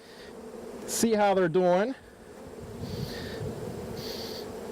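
Honey bees hum in a steady, low drone at an opened hive, while someone speaks briefly close by.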